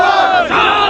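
A large crowd of protesting students shouts together in a loud, close, sustained chorus of raised voices, a brief roaring chant with a momentary dip midway.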